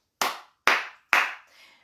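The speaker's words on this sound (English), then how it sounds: "Clap your hands together, 1, 2, 3" Three sharp hand claps in a steady one-two-three rhythm, close and fairly loud, keeping time with a children's nursery rhyme action song, with no voices in between.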